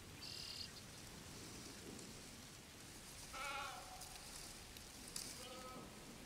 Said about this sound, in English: There's a baring sheep near me.